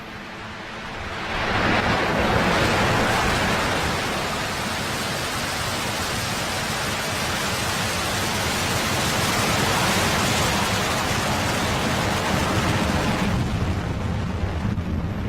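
A SpaceX Falcon 9 rocket lifts off from Kennedy Space Center carrying KoreaSat-5A, its roar swelling quickly into a loud, sustained broadband rumble that holds steady before tapering away.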